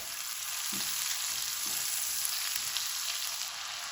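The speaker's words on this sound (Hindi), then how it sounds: "और इसको 2-3 मिनट हम भूनेंगे।" Tomato and spices fry in a pan for haleem, a steady close sizzle with a few soft stirring knocks underneath, continuous and even throughout.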